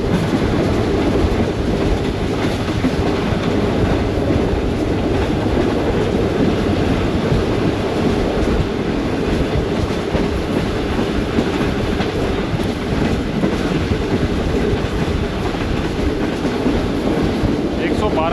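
Tezgam express train running along the main line on its approach to Okara railway station, a steady loud rumble with rhythmic clickety-clack of wheels over rail joints throughout, with faint voice in the background.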